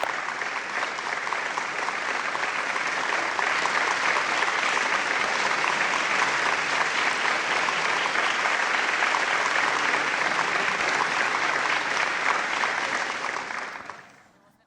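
A large audience at a Weber State University spring commencement ceremony breaks into sustained, dense applause, an even roar of many hands that holds steady for about thirteen seconds before quickly fading out.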